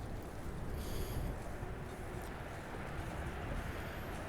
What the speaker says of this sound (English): I definitely feel this wind